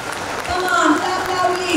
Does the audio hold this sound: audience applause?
yes